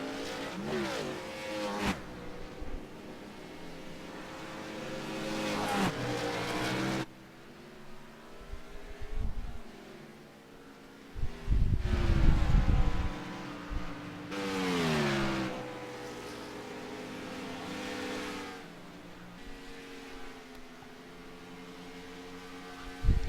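Race cars accelerating out of pit road at an SRA SCC race, engines revving and roaring past in repeated waves, some close and loud, others fading into the distance, with no talk heard.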